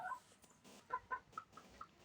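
A hen clucks in a quick series of short, close clucks, with a few brief pauses between bursts.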